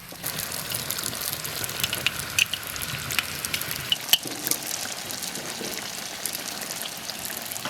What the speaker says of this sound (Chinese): 抠好的这些上锅炸，油4、5成热，下锅炸，